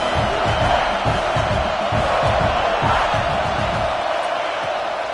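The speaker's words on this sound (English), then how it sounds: "how nice is it to have the home crowd going absolutely bananas?" A home crowd roars at a college football game in the stadium, a loud, continuous wash of cheering and whooping with rhythmic stomping or clapping underneath.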